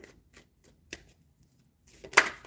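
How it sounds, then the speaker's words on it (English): Tarot cards are shuffled by hand in a few soft, quick riffles and taps, quiet and close, ending with a sharper burst of card noise. "doing a really good shuffle job today"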